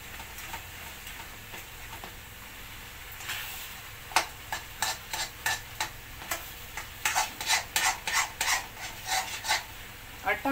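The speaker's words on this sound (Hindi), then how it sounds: "अब इसको धीरे धीरे से चलाते रहेंगे जब तक चीनी" A spoon scrapes and stirs wheat flour halwa with sugar in a kadhai, giving a steady run of rhythmic rasping strokes that begin faint and grow louder and quicker, with a low sizzle underneath.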